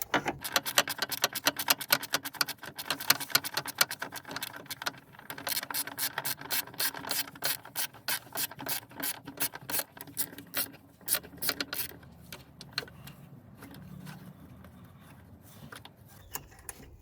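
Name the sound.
ratchet removing T15 screws from BMW E90 parking light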